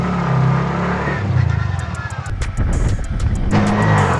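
A Bajaj RE three-wheeler with a 196cc engine pulls forward from a stop, its motor revving and rising in pitch, loud and close, with a brief rattle as it gains speed.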